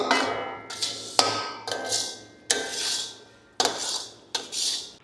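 A spoon stirs carrot halwa with dry fruits in a pan, giving about eight sharp metallic clanks and scrapes against the pan at an uneven pace, each fading quickly. The sound is close by and no one speaks.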